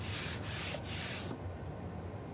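A hand rubs over a glittered board for a baby feeding chart, making a close, steady dry swishing scrape with a couple of brief stroke breaks before it stops and only faint hiss remains.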